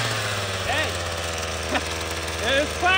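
A weed whacker's small engine runs on gasoline made from plastic, a steady mid-pitched drone with a faint buzzing rasp and brief rises in revs, fairly close and continuous for a few seconds.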